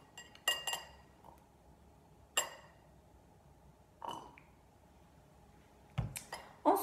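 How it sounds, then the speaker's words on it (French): A glass laboratory pipette clinks while being rinsed, making a few sharp, isolated glassy chinks separated by stretches of near silence. "je vais rincer ma pipette pour les futurs prélèvements"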